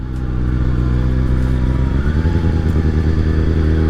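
A Kawasaki 636 stunt motorcycle engine runs close and loud, a steady idle that rises into quick rhythmic revs partway through, with no voices over it.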